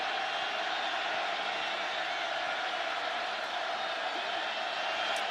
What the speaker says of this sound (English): The crowd again roaring.